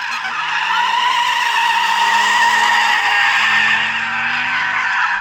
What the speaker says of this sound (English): Let's warm up the tyres. So you just turn the wheel and plant your right foot.